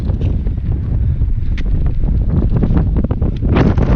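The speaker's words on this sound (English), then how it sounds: "Very windy up here." Strong wind on White Clouds Peak buffets the microphone in a steady, roaring rush with no voices, gusting a little louder toward the end.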